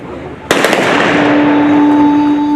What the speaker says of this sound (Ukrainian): А воїни збройних сил України віддали честь пострілами